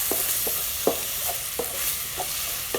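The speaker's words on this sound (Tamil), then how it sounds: "கீரையை மட்டும் பக்கத்தில் இருந்தே கிண்டி விட்டு சமைங்க." Spinach cooks in a pan as it is stirred, a soft steady sizzle with repeated scraping strokes of the spoon roughly every half second, close and without talking.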